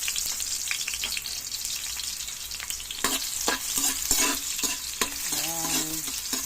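Garlic and onion sautéing in a pan while being cooked for mussels in coconut milk, with a steady sizzle and frying hiss punctuated by repeated scraping stirs and utensil clinks close by.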